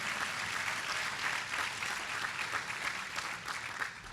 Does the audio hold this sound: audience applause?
yes